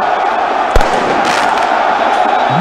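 At a football stadium in Takwa, a dense roaring crowd cheers continuously while a single sharp firework bang cracks out early, all loud and close.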